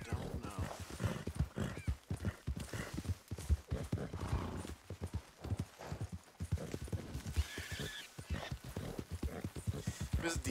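Horse hooves clip-clopping steadily with an occasional neigh in a Red Dead Redemption 2 ride through Saint Denis, quiet and under frequent talk from a player.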